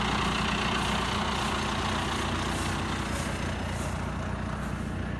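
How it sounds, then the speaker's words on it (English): A 5100 tractor hooked to a small side delivery rake in a field of dried crab grass, its engine a steady, loud, close drone with no talking. "Got the 5100 hooked up to this little side delivery rake."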